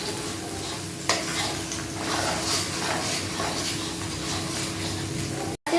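Curry paste for chicken reshmi curry fries in a wok over a medium flame, giving an even, continuous close hiss and sizzle with faint stirring, ending in a brief cut to silence.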